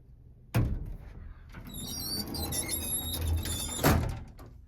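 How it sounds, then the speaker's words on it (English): Heavy sliding door of an antique 1910s Otis elevator in the Colorado National Bank Building, Glenwood Springs, landing with a loud thunk, then rolling and squeaking with metallic creaks before slamming shut again with a second thud. "Yeah, that's a heavy door."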